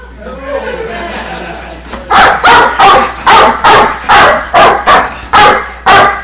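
A dog barks repeatedly in a steady series of loud, close barks after a couple of seconds of low background murmur.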